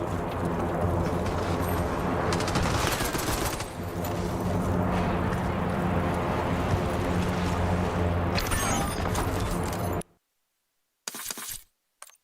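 An online multiplayer shooter erupts in dense, loud gunfire and explosions for about ten seconds, then cuts to near silence before a brief final burst.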